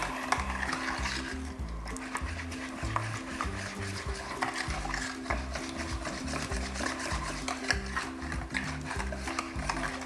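Eggs with vanilla and vanilla sugar are whisked briskly in a bowl, a rapid continuous metallic scraping and clinking against the sides, close and steady with no talking.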